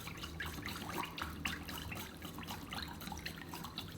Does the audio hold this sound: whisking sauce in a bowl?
yes